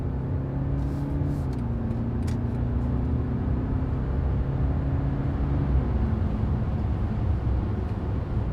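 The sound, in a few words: BMW 523d mild hybrid diesel driving in sport mode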